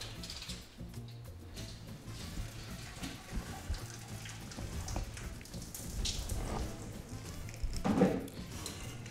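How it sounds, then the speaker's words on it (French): A water jet sprays over a basket of freshly cooked hot snails, giving a steady, soft hiss and patter of water with a brief louder splash near the end. "Je sors mon panier, j'arrose le tout pour tomber la température"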